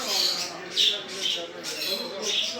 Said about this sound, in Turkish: şöyle genç bir cennet papağanımız var